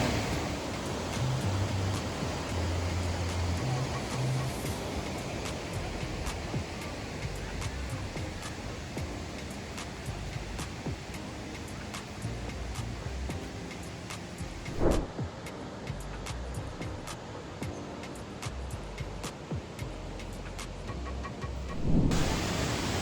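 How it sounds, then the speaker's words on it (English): Pancada Grande waterfall in Bahia, Brazil, seen from above: a steady, loud broadband roar of falling water that stays constant throughout, with no voices. "Look at the view from above the PACANDA Grande waterfall."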